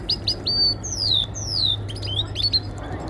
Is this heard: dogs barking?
no